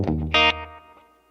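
An electric guitar plays a brief distorted phrase of a few notes through reverb, ringing close and clear before fading into a soft decaying tail.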